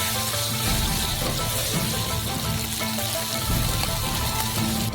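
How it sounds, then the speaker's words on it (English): Black beans and hot pepper frying in a pan, a steady, moderately quiet sizzle and crackle of oil that continues evenly throughout with no talking. "First, fry them a little bit."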